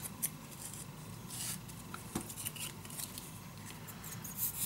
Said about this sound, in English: Cut the corners.